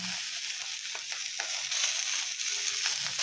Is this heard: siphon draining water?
no